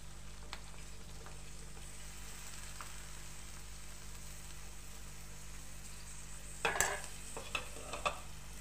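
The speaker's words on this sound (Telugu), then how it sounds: "కట్ చేసుకున్న దొండకాయ వేసుకోవాలి." Cut ivy gourd (tindora) sizzles faintly in a pan over a low engine-like hum, then a burst of clattering and stirring sounds near the end, close and fairly quiet.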